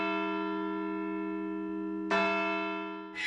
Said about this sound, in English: And for the church bells here,